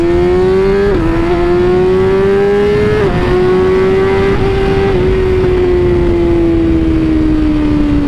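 A BMW S1000RR sport motorcycle accelerates hard, its loud, close engine note climbing steadily through the gears with several quick dips at each upshift, no voices over it.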